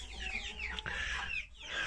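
Backyard hens clucking close by, several short, throaty calls and squawks overlapping in quick irregular bursts against a quiet outdoor background.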